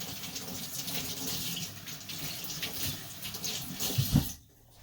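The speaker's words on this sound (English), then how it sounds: "Wash my hands really quick." Tap water runs steadily into a sink as hands are washed in a home kitchen during sourdough pizza making, a close, continuous splash that ends abruptly with a brief clatter.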